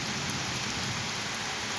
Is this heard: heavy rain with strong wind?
yes